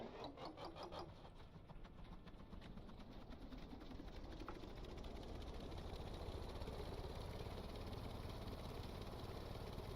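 A car engine idling and revving in a car mechanic video game, a steady low droning hum that swells slightly, heard alone without talk.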